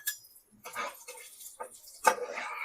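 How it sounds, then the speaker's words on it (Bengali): Cashews and raisins being stirred in a cooking pot for basanti pulao: a few quiet, intermittent scrapes and metallic clinks of a utensil against the pot, close by and separated by short pauses. "কাজু বাদামটা আগে একটু নেড়ে নিই"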